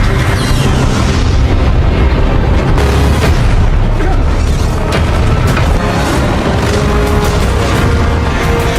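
A bomb detonation from the disaster film Moonfall, a loud, dense booming roar with repeated bursts and crashing debris that fills the whole stretch without letting up.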